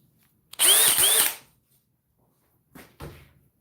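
A Dewalt DCD1007 cordless hammer drill with a 5 amp-hour battery runs in drill mode at speed 3, one loud close whirring burst of under a second, followed by two short clicks and knocks.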